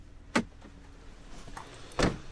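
Rear door of a 2021 Jeep Gladiator Rubicon Diesel opened by its handle: two sharp, close latch clunks about a second and a half apart, with quiet cabin hush between.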